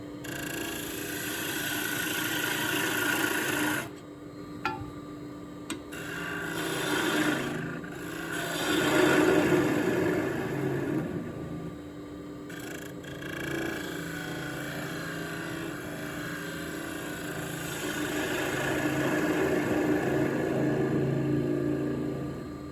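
A 3/8 spindle gouge on a wood lathe makes a push cut across the bottom of a turning, giving a steady, close scraping rasp that swells and fades in long passes over a low motor hum.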